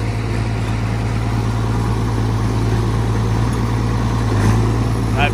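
A tractor engine runs in gear with a steady, loud low-pitched drone throughout, and people talk over it.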